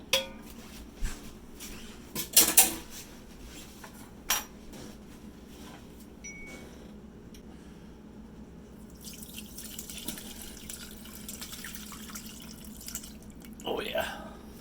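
Juices from a pot roast strained for gravy: liquid pouring and dripping with clinks of a metal strainer and pan, a few sharp knocks early, then a steady trickle, close and fairly quiet.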